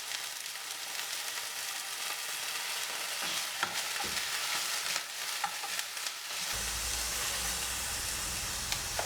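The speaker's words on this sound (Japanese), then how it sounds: "切った根を入れ、しんなりするまで炒めます" Chopped dandelion roots stir-fried in an oiled frying pan, a continuous loud sizzle with occasional scraping stirs.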